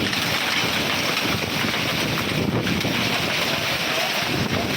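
Heavy rain pours down in a dense, continuous roar, loud and close, mixed with gusting wind noise on the microphone and no speech.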